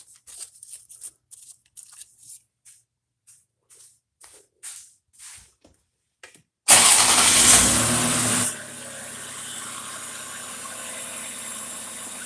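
A 1998 Lexus ES300 engine with its air intake removed starts after short handling clicks, a loud surge at ignition settling into a steady, closer idle hum.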